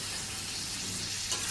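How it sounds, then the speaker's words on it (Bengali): Vegetables, kakur and potatoes with spices, frying in a pan for a curry, giving a steady close hiss and sizzle with a faint stir near the end. "সময় নিয়ে সবজিগুলো ভেজে নেব।"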